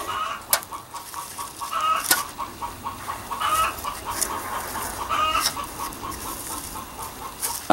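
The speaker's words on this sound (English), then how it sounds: "those chickens are right chuffed about something" Chickens cluck and squawk close by on a compost pile in a repeating pattern, with sharp calls recurring every second or two over a low outdoor background.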